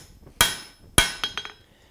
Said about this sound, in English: That's a lot of hammer-ramming.